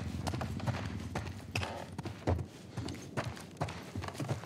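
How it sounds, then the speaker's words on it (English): Horse hooves gallop in rapid clip-clop rhythm across the ground in the video game The Last of Us Part 1, steady and fairly loud against a game ambience with no one speaking. "Horse."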